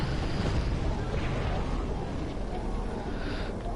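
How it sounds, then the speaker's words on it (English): A dreadnought explodes in a Star Trek video game with a deep, rumbling blast that keeps roiling for several seconds, loud and dense, with a voice faintly underneath. "This explosion's gonna hurt."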